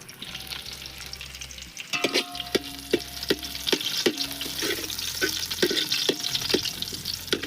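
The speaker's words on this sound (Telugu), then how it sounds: "ఇక ఈ ఉల్లిగడ్డలు కొంచెము ఫ్రై కావాలి." Chopped onions frying in hot oil in a pan, a loud continuous sizzle with crackling spatters and repeated scraping stirs every half second or so, close and without talk.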